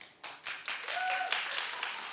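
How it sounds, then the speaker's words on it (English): Studio talk-show audience clapping in a scattered, moderate burst, with a few voices and a brief whoop-like tone rising through it. "Clap if you watched."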